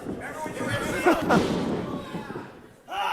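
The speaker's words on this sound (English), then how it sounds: "And another big throw there by Devontae's" A wrestler is slammed down onto the ring in a Primal Conflict Wrestling match, giving heavy, booming thuds in quick succession under constant commentary and crowd noise.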